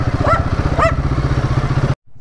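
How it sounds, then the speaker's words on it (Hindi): A Royal Enfield Himalayan motorcycle runs off-road in off-road pro mode with ABS off, its single-cylinder engine thumping in a steady rhythm close by before cutting off abruptly. "We are riding in the off-road pro mode on the Himalayan."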